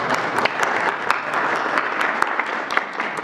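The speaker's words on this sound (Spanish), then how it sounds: "un aplauso a los gobernadores porque nos han ayudado." Applause for the governors at a government press event in the National Palace, steady clapping from a room of people lasting the whole moment, with sharp individual claps standing out from the dense patter.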